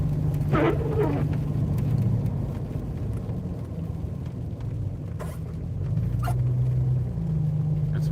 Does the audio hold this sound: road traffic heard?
yes